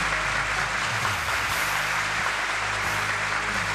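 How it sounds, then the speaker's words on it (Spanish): A studio audience applauds the winner of a Spanish-language TV quiz show: steady, dense clapping from many hands, loud and even from start to finish. "Un aplauso para Mena."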